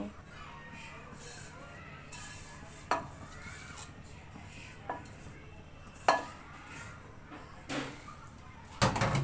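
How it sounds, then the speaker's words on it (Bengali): Fried vermicelli is dropped into boiling milk in a pot and stirred, a quiet bubbling bed broken by several sharp clinks and knocks of a spoon against the metal pot, with no talking. "এখন আমি এই জাল করা দুধের মধ্যে সেমাইগুলো ছেড়ে দিব।"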